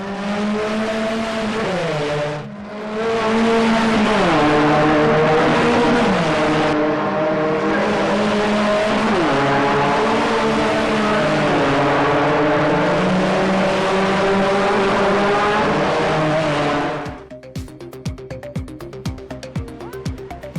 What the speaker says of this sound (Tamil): சென்னையில் விறுவிறுப்பாக நடைபெற்ற ஃபார்முலா 4 கார் பந்தயம்.